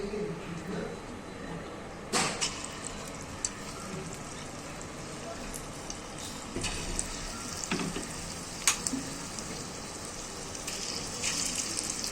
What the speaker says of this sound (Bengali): তেল গরম আছে, এবার আমি একটা একটা করে ছোটো ছোটো করে ছেড়ে দেবো।